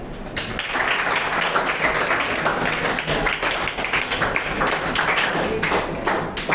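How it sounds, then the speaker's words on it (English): A group of students applauds in a classroom after a classmate's answer. The clapping is dense and steady, starting quickly and holding at an even, fairly loud level for several seconds. "Please clap for him."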